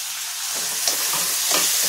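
Tomato drops into veg manchurian gravy in a pan, and a loud sizzle flares up after a quiet start, with a few scraping stir sounds over the hiss.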